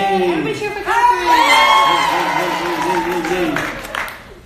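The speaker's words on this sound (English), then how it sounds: "Everybody cheer for Catherine!" Cheering and whoops from a crowd of voices greeting a woman named Catherine, lively and sustained with rising shouts and clapping layered together, then tapering off near the end.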